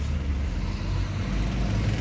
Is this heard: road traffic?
yes